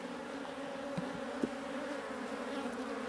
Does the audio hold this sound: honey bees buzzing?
yes